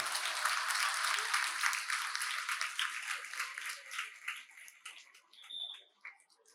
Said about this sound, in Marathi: जोरदार टाळ्या वाजवा त्यांच्यासाठी एकदा.